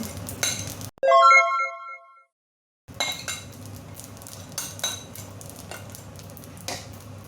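Metal utensils clatter and scrape in a pan as ingredients go in and get mixed for Chinese-style rice stick noodles, with a bright chiming clink, a short silence, then steady stirring and tapping.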